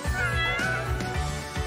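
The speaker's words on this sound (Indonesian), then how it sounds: "Oh, kamu nemuin kucing aku." A pet cat meows repeatedly over a steady background, with several drawn-out cries close to the listener.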